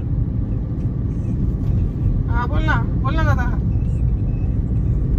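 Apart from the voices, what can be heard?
car driving along the road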